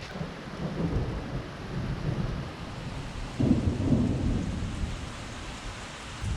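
Rumbling thunder from a lightning storm rolls through steady rain, with a louder low boom swelling in the middle before fading back into the continuous wash of rainfall.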